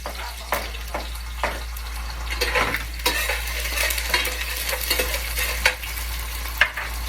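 Garlic frying in hot oil while being stirred in a pan, a steady sizzle broken by repeated scraping strokes of the utensil, close and fairly loud with no talking.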